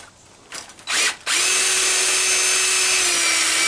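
A power drill spins up in brief bursts, then runs steadily at high pitch, driving self-tapping screws into metal while an arbor is being fixed, loud and close with no talk.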